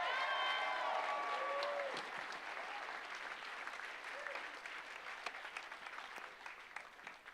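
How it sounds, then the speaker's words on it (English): Audience applause at a charity gala in Vancouver, a broad wash of clapping that starts full and slowly thins over several seconds, with a sung or spoken voice fading out at the start. "Vancouver, give yourselves a round of applause"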